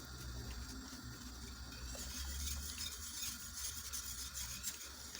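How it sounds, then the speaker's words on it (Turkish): A wire whisk stirs rice pudding with milk and a starch mixture in a pot, giving a soft, continuous scraping and swishing that stays quiet and close throughout, with no talking. "Bir süre çırpıcıyla karıştıracağım."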